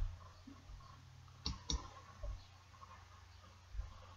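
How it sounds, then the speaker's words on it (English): A computer mouse clicks twice in quick succession, then gives a couple more single clicks. The clicks are faint and close over a low steady hum. "Let me click on it, let it load."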